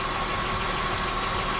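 Supercharged engine with an open air intake running loudly, a dense, steady mechanical roar with a whining tone, close and unbroken for under two seconds.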